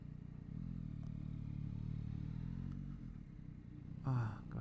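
Motorcycles on a road in Spain: a low, steady engine rumble rises and holds, then eases, with a brief clatter and a short voice burst near the end.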